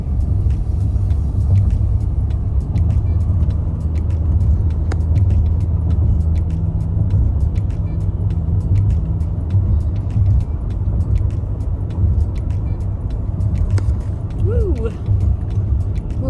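Car driving along a two-lane road in Norman, Oklahoma, a steady low engine and tire rumble from inside the cabin with occasional faint clicks and a brief tonal squeak near the end.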